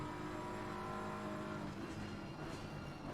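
Lamborghini race car engine in a sim racing endurance event at Monza, a steady loud drone of engine and road roar holding throughout with no clear passes or pauses.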